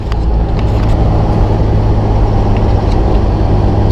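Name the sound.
Jeep Wrangler JK engine accelerating uphill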